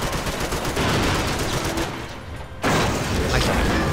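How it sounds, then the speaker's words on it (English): Rapid video-game gunfire from Max Payne 3, dense bursts of shots up close that briefly drop away and then resume, with a player talking over it. "Then I can"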